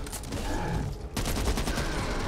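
Assault rifle fire in the Back 4 Blood video game, a dense, loud rapid burst of gunshots with a brief gap partway before the firing resumes, with no voice over it.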